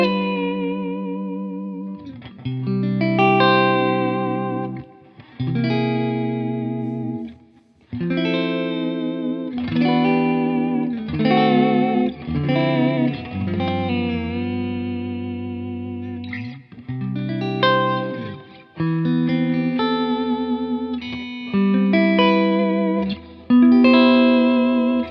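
A new $279 Squier Affinity electric guitar played through effects, picked notes and chords with chorus-like shimmer and reverb tails, phrases separated by short gaps, close and steady with no voices.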